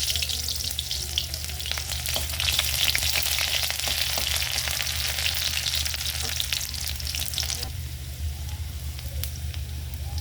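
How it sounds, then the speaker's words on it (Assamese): Small onion pieces frying in hot mustard oil in a kadai, a steady loud sizzle and crackle that carries on without a break, with no talking. "এটা সৰু চাইজৰ পিঁয়াজ পূৰণ দি দিছোঁ।"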